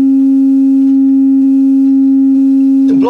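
A steady, loud low-pitched sine tone from a ported subwoofer box hums without change for a few seconds, then a short burst of rustling noise cuts in at the end.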